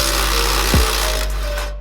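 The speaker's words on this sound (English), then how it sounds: "we got two 12 mil bolts on this side and then all four Phillips screws, and those plates should come off" Rusty 12 mm bolts and Phillips screws come off the fuel pump access plate of an 8th-generation Honda Civic, with a steady whirring tool drone and one brief descending whine near the middle.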